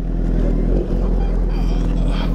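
Motorcycle (a G900) engine droning steadily while being ridden, loud and continuous low rumble with wind noise, with a brief dip partway through.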